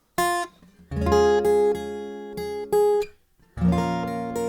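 Guitar chords struck one after another with pauses between, each ringing briefly before the next, close and moderately loud with no talking.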